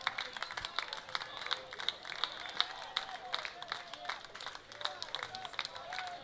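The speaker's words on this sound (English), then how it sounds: "Crowd clapping along." A baseball crowd at a Pierre Trappers versus Red River Pilots game claps along in a steady rhythm. The claps are fairly faint and distant, with a low murmur of the crowd underneath.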